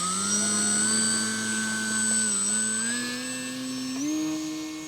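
The small electric motor of an Eclipson Model C model airplane fitted with skis whines at a high, steady pitch, its tone shifting slightly up and down as it revs, loud and close.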